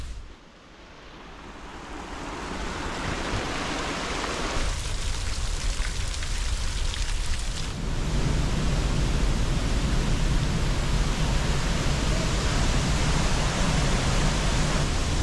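A constant, broadband roar of rushing water from Angel Falls, loud and unbroken, swelling slightly fuller partway through.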